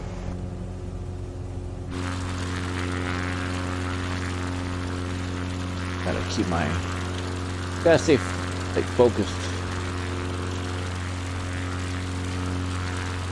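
A propeller plane's engine drones steadily in Microsoft Flight Simulator 2020, a constant low harmonic hum that fills the whole stretch while someone speaks briefly over it.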